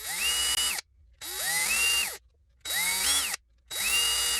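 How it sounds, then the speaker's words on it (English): A power drill bores pilot holes into wood in four bursts, each whining up and revving before cutting off, with short silent gaps between. "pre-drill my holes"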